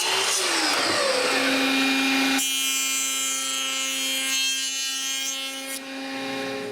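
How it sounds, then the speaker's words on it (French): A wood router cuts a test tenon on a furniture rail, a loud steady high whine with strong harmonic tones that jumps louder and brighter partway through as the bit engages the wood, then runs on continuously. "J'ajuste la hauteur de la toupie et je coupe un autre test."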